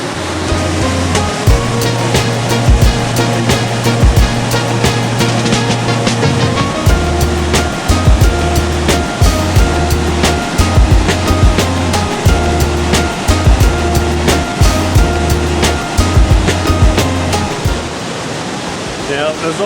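Ban Gioc Falls in Cao Bang, Vietnam thunders up close in a loud, steady roar of broadband water noise, with a few low rumbles layered beneath.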